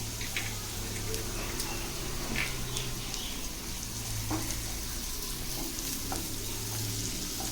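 Chopped onion fries in hot oil in a pan for restaurant-style egg fried rice, giving a steady, close sizzle that runs unbroken throughout with a faint voice underneath.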